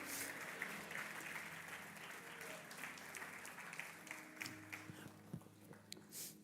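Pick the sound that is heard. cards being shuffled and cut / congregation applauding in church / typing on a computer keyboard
congregation applauding in church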